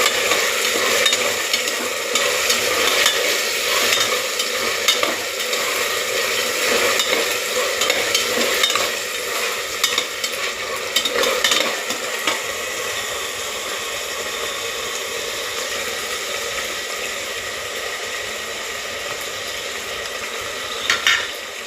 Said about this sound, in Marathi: आता हे छान असे परतवून घ्यायचे